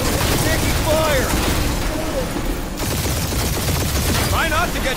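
Dense video-game gunfire fills a spaceship dogfight in Guardians of the Galaxy, a loud continuous barrage of shots with engine roar and whooshing passes throughout, voices talking faintly underneath.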